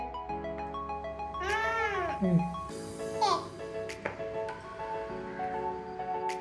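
A cat meows in a few drawn-out, rising and falling cries amid a child's babbling and an adult's voice, all close by, with a light tick here and there.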